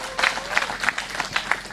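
Audience applause at a PNU 15th anniversary rally, a continuous patter of clapping from a crowd with several louder bursts, fairly close, with some cheering mixed in.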